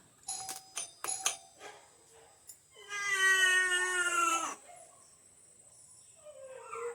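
Several quick electronic doorbell chimes sound in a quiet room, followed by a long wavering animal howl and a faint cry near the end.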